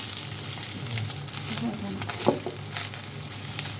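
Seafood fried rice with a little curry powder stir-fried in a pan, with a steady frying sizzle and scraping and pressing strokes of the spatula against the pan, under occasional voices.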